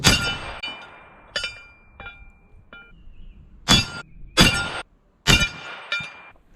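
Several sharp, ringing metallic impacts from 25 Creedmoor rifle rounds striking a steel plate target at 425 yards, each a bright clang with a short decaying tail, arriving at irregular intervals with the louder strikes clustered later.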